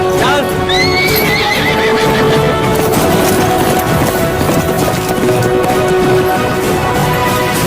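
A horse neighs loudly in a dramatic Indian film scene, a rising whinny near the start followed by hoof clatter and steady orchestral score throughout.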